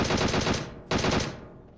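Rapid automatic gunfire from PUBG Mobile, a dense burst of shots, a brief pause, then a second sustained burst, loud and close with no talking.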